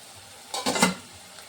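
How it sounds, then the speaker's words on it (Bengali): Vegetables frying in a pan give a brief burst of sizzling and stirring scrapes near the middle of a quiet moment, then fade back to low hiss. "ততক্ষণ আমার এই সবজিটা একটু ভাজা হোক।"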